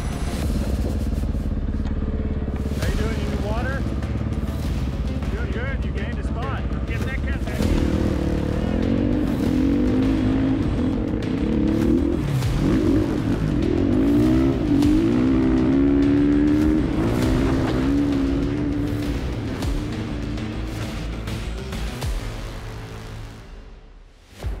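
Rally motorcycle at the Sonora Rally in the desert, engine droning steadily and rising in revs as it crosses the road, loud and close throughout with a fade at the end.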